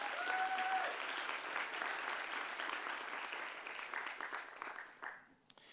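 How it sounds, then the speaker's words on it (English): A ceremony audience at DC Climate Week applauding event volunteers, with sustained dense clapping that gradually thins and fades toward the end. "So if everybody can give a huge round of applause to the event volunteers."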